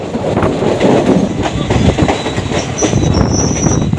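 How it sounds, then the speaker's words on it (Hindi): Loud, close rumble of the Mithilanchal Express rounding a curve, with continuous rail clatter and high wheel squeal ringing over the running noise from inside the coach. "पूरी ट्रेन बिल्कुल कर्व हो जाती है देख लो"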